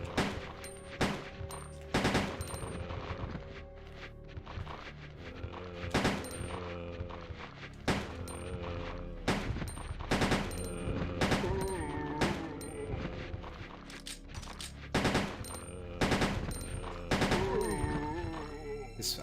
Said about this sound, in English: Rapid firing with the pistol now.